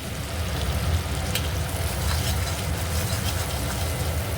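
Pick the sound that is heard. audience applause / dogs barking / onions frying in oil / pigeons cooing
onions frying in oil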